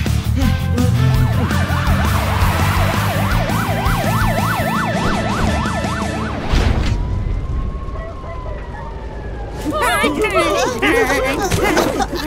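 A cartoon fire engine siren wails, sweeping rapidly up and down amid loud commotion, then fades and gives way to further frantic vocal noises.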